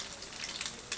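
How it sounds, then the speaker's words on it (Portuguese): Rabanada, bread slices soaked for French toast, frying in hot oil in a pan, giving a continuous close, crackling sizzle with small popping bursts and no talking. "vamos deixar fritando até ficar bem douradinha"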